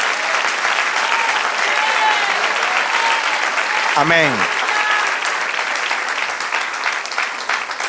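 A church congregation applauds loudly and continuously throughout, with voices calling out over the clapping and a brief tonal sweep rising above the crowd midway.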